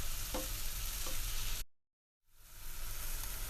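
Tomatoes sauté in a pan for an Indian aloo matar of potatoes and peas, giving a steady close sizzle and stir that cuts out to silence for about half a second before resuming.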